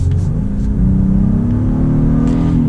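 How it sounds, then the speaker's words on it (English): A 2020 Honda Passport Elite SUV accelerating, its engine note rising and swelling loud and close inside the cabin, a steady building rumble with no talk. "we're gonna get a little acceleration here with the Passport"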